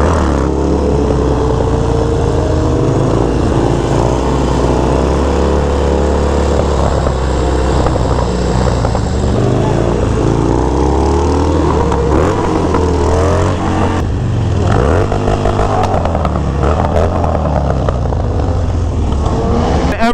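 A motorcycle engine runs loud and close throughout, its steady drone rising and falling in pitch as the revs shift, with no pause.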